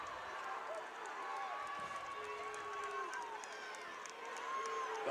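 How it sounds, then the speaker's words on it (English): Crowd at a high school regional finals basketball game, a continuous murmuring roar of spectators with rising reactions and faint squeaks beneath it, heard at moderate distance. "You can hear the crowd reactions"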